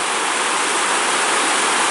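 Newport River in Ireland in flood, water rushing over stones with a loud, steady, broadband roar close by and no voices.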